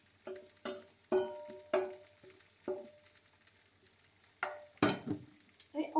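Chicken and vegetable tajine cooks over medium heat with a gentle sizzle, broken by several sharp clattering knocks of utensils against the pot, spaced irregularly and heard up close.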